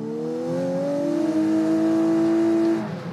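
A hybrid Lexus with a CVT accelerates, its engine revving in a steady, rising drone that holds a high pitch for about two seconds before easing off, close and loud with no talk.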